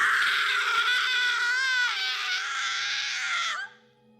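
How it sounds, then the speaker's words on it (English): A woman's high, wavering shriek of terror rises and warbles loudly for a few seconds, then cuts off sharply into near silence. "I was cut off by a shriek of terror"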